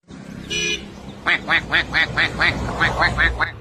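A duck quacks in a quick series of about ten nasal calls in a steady rhythm, close and fairly loud, preceded by a brief tonal toot and with faint background noise.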